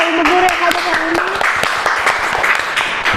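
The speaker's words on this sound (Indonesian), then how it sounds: "Boleh tepuk tangannya untuk Bapak Ibu Guru yang ada hari ini." Audience at a Sunday school ministry gathering applauding the teachers, loud close hand clapping with many sharp overlapping claps, while a voice speaks and tones sound over the top.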